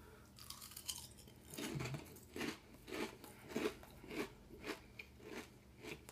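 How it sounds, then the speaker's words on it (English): Chocolate Frosted Flakes cereal is crunched and chewed close up, each bite a sharp crackly burst in a steady rhythm of about ten bites, quiet between them and with no talking. "that's basically me eating chocolate Frosted Flakes"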